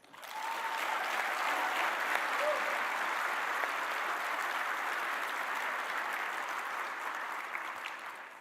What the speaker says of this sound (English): So please join me with a warm round of applause for all contestants.